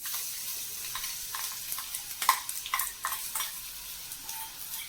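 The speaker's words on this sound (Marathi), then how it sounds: "मग आपण ही जी डाळ वाटलेली आहे ना ती आपण त्यात टाकायची" Ground lentil paste hits a hot tempering of asafoetida and turmeric with a sizzle, followed by several close, uneven stirring scrapes and soft splatters, with no talk.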